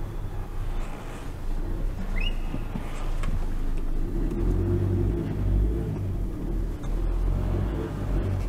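A Ford Fiesta engine turns over and settles into a steady low rumble, loud and close, running continuously with slight swells in level.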